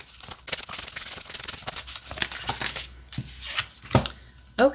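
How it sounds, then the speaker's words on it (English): Repeated soft riffling and rubbing of an oracle card deck, several brisk shuffles in a row, with a sharper snap of cards near the end. "I really like how it shuffles."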